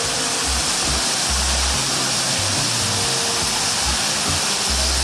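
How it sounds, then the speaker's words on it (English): Grand Canyon waterfall pounding onto a big mossy rock, a loud, steady broadband roar of falling water heard close up and alone, with no voices. "Look at this big mossy rock here, and the water just beating down on it."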